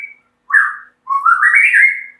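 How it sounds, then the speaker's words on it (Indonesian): A tame, hand-reared white-rumped shama (murai batu) sings nearby: a short whistled note, then two clear rising whistled phrases, the last one long and sweeping, all loud and alone with no talk. "Ini dia murai batu jinak."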